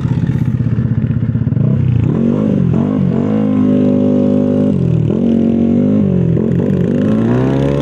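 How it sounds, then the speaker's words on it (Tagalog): Dense, loud road traffic with many vehicles and motorcycles on a climbing road in the Philippines, engines droning and revving steadily throughout. "Ang daming sasakyan."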